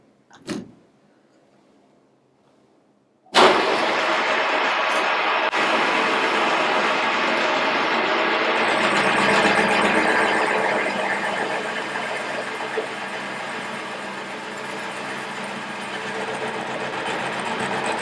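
A Harley crankcase being machined through a rough weld: after a brief knock and a few seconds of quiet, a loud, steady cutting whine with dense grinding texture starts abruptly and holds without a break.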